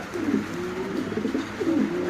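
Pigeons coo softly nearby, a few low, throaty rolling calls repeating in a gentle rhythm.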